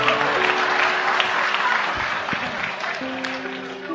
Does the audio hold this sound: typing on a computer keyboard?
no